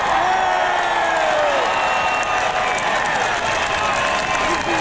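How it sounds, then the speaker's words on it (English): Large outdoor crowd at a freedom protest in Trafalgar Square, London, cheering, whooping and applauding loudly and continuously, with scattered shouts over the dense roar. "let's give that a big cheer."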